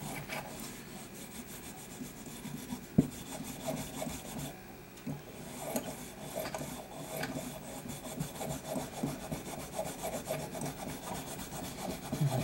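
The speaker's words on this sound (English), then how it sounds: "I'm scrubbing that last part of the chamber pretty good" A cleaning rod scrubs back and forth inside the chamber of a Smith & Wesson 642 revolver, making a steady, close rasping rub with small knocks and one sharp tap, continuing without any talk.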